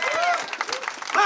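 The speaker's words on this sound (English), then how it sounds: "I applaud you. Give them a hand." Rally crowd applauding young people at a Mike Brown justice march, a steady wash of clapping with voices and shouts mixed in, fairly close, swelling again toward the end.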